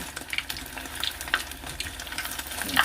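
Fish fries in hot oil on a medium-high flame, giving a close, continuous sizzle and crackle with bright popping bursts throughout.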